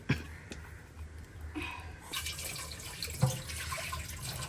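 Water pours into a pressure cooker while beef biryani is prepared in a home kitchen, a soft splashing flow under light clatter. It is fairly quiet, with brief knocks and a slightly stronger gush partway through.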